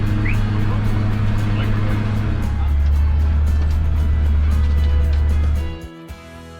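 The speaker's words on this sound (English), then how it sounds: "then it's off to the fields in a well-weathered, yet reliable, repurposed milk truck" A well-weathered, repurposed milk truck drives toward fields on a South Dakota pheasant hunt, its engine a steady, loud low rumble close by that cuts off near the end.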